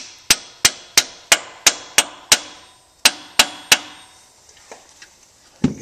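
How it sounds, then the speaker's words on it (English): A hammer taps a bolt into place on a tractor engine during a rebuild: about ten sharp, ringing metallic strikes in a steady rhythm with a short pause, close and loud, then faint clinks. "I'll take a hammer or something and just tap it a little bit."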